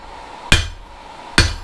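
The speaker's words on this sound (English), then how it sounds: "Hammering down this way." Two sharp, ringing hammer blows on hot steel while hand forging a V swage anvil hardy, close and loud, spaced under a second apart with a metallic ring fading after each strike.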